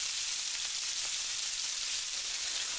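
A lamb burger fries in a pan, giving a continuous close sizzle with faint crackles and pops and no voices.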